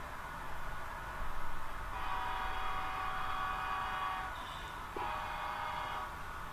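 HO scale model train on a model railroad main line, its sound-equipped horn giving steady tonal blasts, a long one and then a shorter one, over a constant rumbling background, with no talking.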